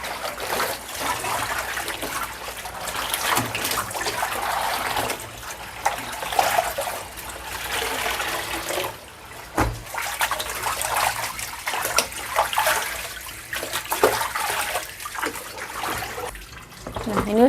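Running water splashing while something is rinsed twice before drying, an uneven close trickle and gush with brief pauses, alongside occasional talking.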